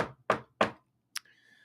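Three firm knocks on wood land close together in a steady rhythm, sharp and close, followed by a single quick click and faint hum.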